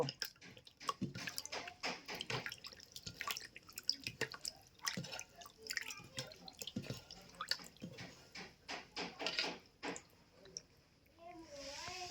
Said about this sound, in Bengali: আমি এভাবে কলেজাগুলোকে যতক্ষণ না পরিষ্কার জল বের হচ্ছে ততক্ষণ ধুয়ে নেব